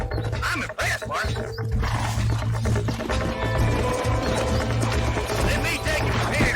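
Horse hooves clip-clop steadily in Red Dead Redemption, sounding close under a continuous layer of game ambience and low background noise.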